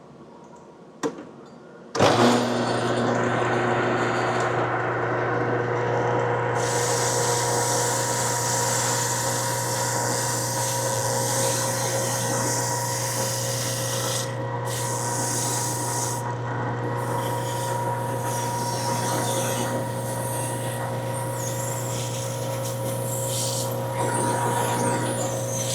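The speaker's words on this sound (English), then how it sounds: "it's like a giant eraser, and it gets all the debris off of the sanding belts" A steady, continuous rubbing rasp of a rubber cleaning stick pressed against a running sanding belt, a constant motor hum underneath, with no voices.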